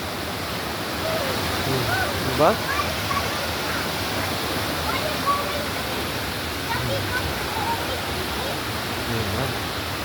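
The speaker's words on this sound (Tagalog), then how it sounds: "Naririnig nyo ba yung pagaspas ng tubig?" Rushing water of Three Falls in Santa Maria, Laguna pours in a dense, steady roar that fills the whole scene. A person asks a brief question over it.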